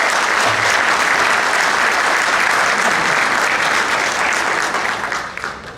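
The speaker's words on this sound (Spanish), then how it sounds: "para quien yo pido un fuerte aplauso" A packed auditorium at a lawyers' association ceremony in Lima bursts into loud, dense applause that holds steady for several seconds before tapering off at the end, with no talking over it.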